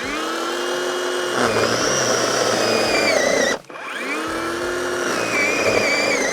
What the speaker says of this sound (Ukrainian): задача зараз буде взяти і спробувати задавити пилу об таку здорову колоду